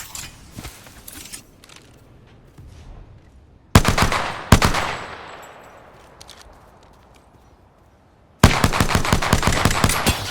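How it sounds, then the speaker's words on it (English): Automatic gunfire in a video game: scattered rapid shots at first, then two loud bursts with a long echoing decay, and finally a sustained, close rattling volley. "They're shooting at me."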